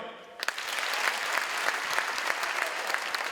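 After a brief voice, mothers in a comedy gala audience burst into steady, dense applause, many hands clapping together at moderate loudness for about three seconds.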